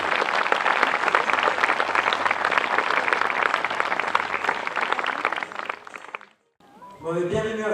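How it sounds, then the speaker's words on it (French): Audience applause at a fashion show presentation, a dense wash of clapping sustained for about six seconds before it cuts off abruptly, followed by a brief gap and then a voice speaking. "Voilà, on peut encore les applaudir."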